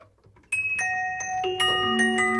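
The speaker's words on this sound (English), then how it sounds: "Sounds like bells or something. The chimes that would hang outside your window, but organised." Bell-like chimes from a song ring out in clear, bright struck tones, entering one after another and layering into an organised, sustained music-box melody with no voices.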